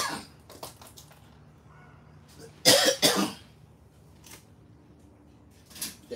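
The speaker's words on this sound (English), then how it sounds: "I'm coughing like a bum" Two or three harsh coughs in a quick burst, close by, with softer throat noises and small clicks before and after.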